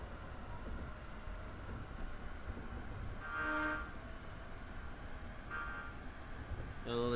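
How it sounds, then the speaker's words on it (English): A train in the driving game Train Drive ATS 2 rumbles past at low volume, with a short horn toot partway through and another tonal blast at the end. "I think we might be racing another train."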